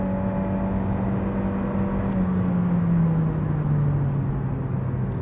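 A car with a sport boost mode, billed as a sports car, accelerates on a road: a steady, loud engine drone with a tone that slides down in pitch as it pulls away, continuous throughout with no talk.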